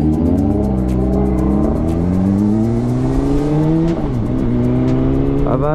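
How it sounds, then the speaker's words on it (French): Audi RS3 with exhaust flaps open revving hard, a loud, continuous engine roar that climbs steadily in pitch, briefly dips, then rises again, close by with no talk. "Le petit RS3 a l'air énervé d'avoir les clapets ouverts, avoir le son qu'elle fait."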